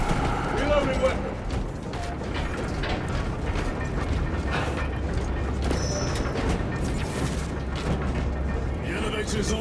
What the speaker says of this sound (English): The elevator's almost here.